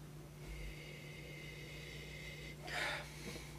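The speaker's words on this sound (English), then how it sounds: "Let's give it a sniffy sniff." A brief nasal sniff of Pinot Noir wine inhaled close to the microphone, set against a steady low hum, with a short breathy burst near the end.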